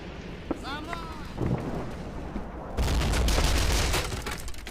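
A grenade blast in a World War II shooter game battle at Küstrin, a broad loud boom with crackling debris rolling on for about two seconds after quieter gunfire and movement, with a voice talking faintly in the mix.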